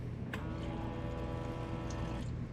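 A home ice maker's water pump starts up, a steady low hum with liquid sloshing and a couple of faint clicks, close and continuous, no speech.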